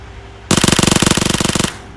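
Automatic gunfire in the battle-royale video game PUBG on the Sanhok map: a loud, rapid burst of machine-gun shots lasting just over a second, standing alone with no talk.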